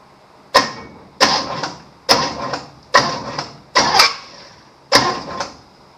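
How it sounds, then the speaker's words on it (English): Six sharp, evenly spaced whooshes of air puff out of the spark plug hole of a 1953 Chevy engine on the compression stroke, one about every three-quarters of a second, close and loud with near silence between. "You heard that big old whoosh? That is on the compression stroke."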